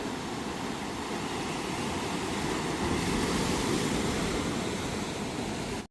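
Rough monsoon sea off the coast at Kunkeshwar, Devgad, a loud, continuous rushing roar of surf with wind mixed in and no voices, cutting off abruptly at the end.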